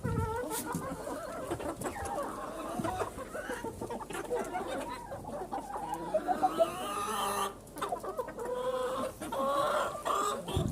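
Laying hens cluck and chatter in a coop, several birds overlapping in irregular bursts close by, with a few sharper calls standing out from the continuous murmur.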